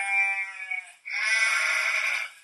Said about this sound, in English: You told me to get a sheep all day. The sheep goes,